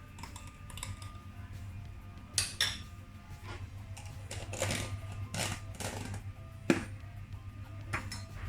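Keto dry chili pan mee noodles are tossed and mixed in a bowl. Repeated clinks and light taps from utensils against the dish fall in an irregular rhythm, close and moderately loud, with no talking.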